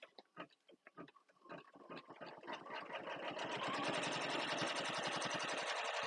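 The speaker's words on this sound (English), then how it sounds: "Now it should stitch that outer part." A computerized embroidery machine stitches the outer part of a zipper pouch in fabric. It starts with spaced needle strokes, then settles into a fast, steady, rhythmic whirring run of stitches that carries on alone with no talking.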